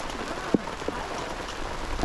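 Rain drums steadily on a camper trailer during an outback thunderstorm, a dense close patter with a couple of sharper pings standing out.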